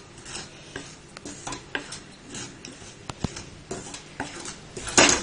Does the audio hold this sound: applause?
no